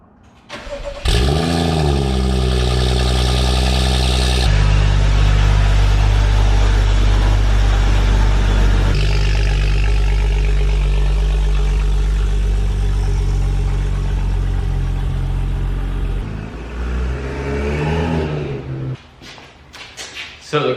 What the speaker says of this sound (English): the cold start on the Corvette's gonna sound a little funny